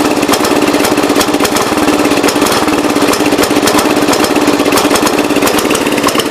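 A 1970 Gravely 408 tractor's small engine runs loud and close with a rapid, even chugging beat that holds steady throughout.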